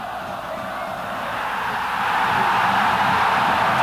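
A football crowd roars and cheers after a goal at a Copa Sul-Fronteira match involving Esporte Clube Pelotas, a loud, dense, sustained wash of stadium noise that swells steadily louder, with no clear talk.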